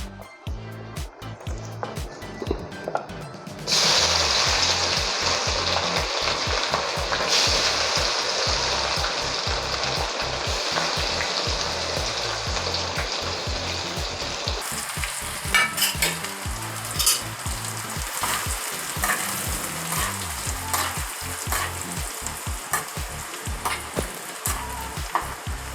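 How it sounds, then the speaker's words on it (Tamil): Crushed garlic sizzles in hot oil in a pan for a spicy tomato pickle. Quiet at first, the frying jumps to a loud continuous crackle, with the scrape and clatter of stirring throughout. "இப்போ பூண்டை வந்து செவக்க வதக்கணும்."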